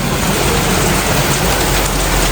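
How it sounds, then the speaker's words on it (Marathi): Sudden heavy rain pours down in a dense, steady hiss that stays loud and unbroken, with no voices. "भयंकर पाऊस पडतोय"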